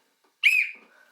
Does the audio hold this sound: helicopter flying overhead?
no